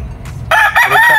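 A claret-bloodline gamefowl rooster crows loudly and close by, one strained, wavering crow starting after a short pause over low background noise.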